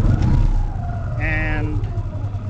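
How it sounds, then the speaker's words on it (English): Engine of an ASH-26E motor glider cranking for an air start in flight, a loud rumbling churn under steady wind noise with a brief whining tone, and someone speaking over it. "And crank the engine."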